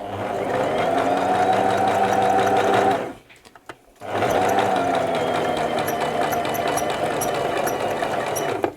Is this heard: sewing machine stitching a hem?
yes